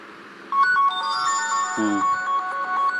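An H13 Pro tablet rings loudly after a find-device play-sound command, a looping electronic ringtone with repeating melodic tones that starts half a second in and continues steadily to the end, with no talking.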